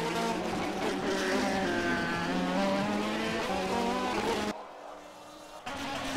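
Race cars roar loudly in a sim racing game at Misano, a dense, sustained engine note with rising pitch lines that cuts off abruptly near the end to a quieter hum before resuming.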